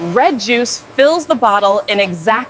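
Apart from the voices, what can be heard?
None of the usual background noises is heard.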